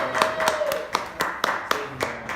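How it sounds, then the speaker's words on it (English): Scattered hand claps from a small crowd applauding the first overall draft pick, a handful of sharp, irregular claps over a murmur of voices. "Look at the crowd. Look at his cheering."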